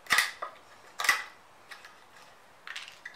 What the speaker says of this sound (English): we can use the chisel now to break the rest of them out